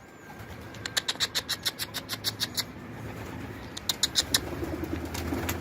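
A black pigeon gives a rapid run of rhythmic calls, then a second shorter burst, fairly close over faint background noise.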